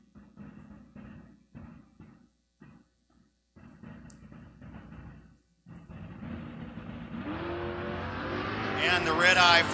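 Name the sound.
Buick drag racing car accelerating down the track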